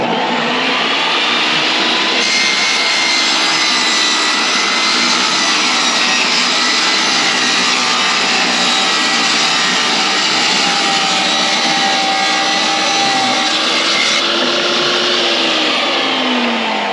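A table saw rips a wooden board to width while building a hunting blind. The motor runs up, then a loud, steady whining cut holds for about twelve seconds before spinning down, close to the microphone.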